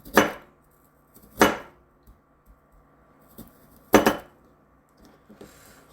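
Radish being sliced with a knife on a board, four separate firm cuts with short pauses between them, close and clear against near silence.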